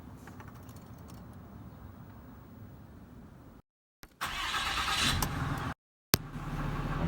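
A 6.7L Cummins diesel truck engine turns over and starts, rising to a rough, rumbling run after two brief silent breaks. There is no talking.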